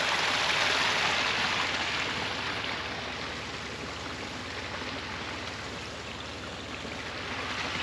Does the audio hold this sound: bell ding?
no